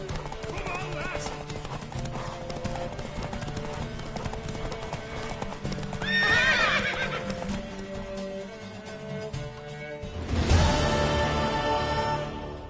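Galloping hooves clop steadily beneath The Witcher 3: Wild Hunt game music and shouted voices, with a loud horse whinny rising near the middle and another near the end.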